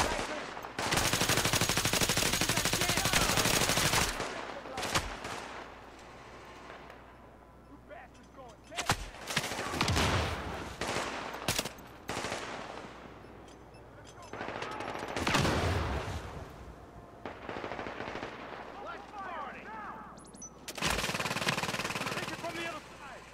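Loud, sustained bursts of automatic gunfire from a firefight against a boss in the video game The Division, with long rattling volleys broken by short pauses and a voice speaking briefly between them.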